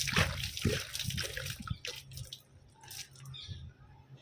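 Water sprayed as a shower over garden plants, a soft hissing patter and dripping that fades after a couple of seconds, fairly faint and close.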